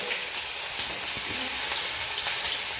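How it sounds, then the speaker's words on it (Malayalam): Crushed garlic and ginger frying in hot oil, a steady close hiss and crackle of sizzling that holds at an even level throughout, with no voices. "എണ്ണ ചൂടായി വന്നിട്ടുണ്ട് ഇനി നമുക്ക് ഇതിലേക്ക് വെളുത്തുള്ളി ഇഞ്ചിയും കൂടിയിട്ട് ഞാൻ ചതച്ചതാണ് ഇവിടെ ഇട്ട് കൊടുക്കുന്നത്"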